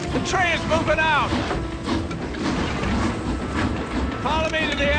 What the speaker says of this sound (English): The train's moving out!